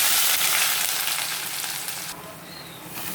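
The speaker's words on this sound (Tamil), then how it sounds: "இப்போ நறுக்கி வச்சுட்டு வெங்காயத்தை போட்டுடலாம்" Steady, loud sizzling of chopped onions frying in hot oil for a spicy tamarind curry (kara kuzhambu), a bright crackling hiss that carries on without pause, with faint stirring.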